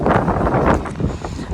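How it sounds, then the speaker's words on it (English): Strong wind gusting across an open beach, a steady broadband roar buffeting the microphone with rises and dips, ending in a sharp close gust. "You can tell when it's windy."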